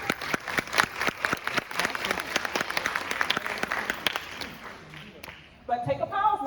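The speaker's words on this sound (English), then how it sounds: "Can you clap it up for that?" Audience applause at a high school band booster meeting, a steady wash of many hands clapping for about five seconds, fading out before a voice resumes speaking.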